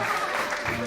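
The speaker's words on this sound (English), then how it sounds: "won't you give them a round of applause?" Applause from a wedding crowd for the bride and wedding party, a brief, dense patter of clapping.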